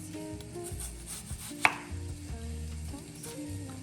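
A knife thinly slicing red onion on a cutting board, with one crisp, distinct chop standing out over quiet background music.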